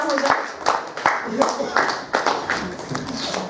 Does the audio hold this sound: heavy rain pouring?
no